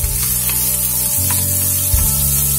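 Chopped onions fry in a pan for Poongar rice flakes upma, giving a steady, fairly loud sizzle throughout with a low hum running underneath.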